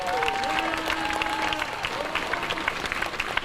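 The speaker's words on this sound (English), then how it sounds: "Clap it up, clap it up, clap it up." A crowd at a Black Lives Matter protest claps in a dense, steady patter, loud and close, with scattered voices mixed in.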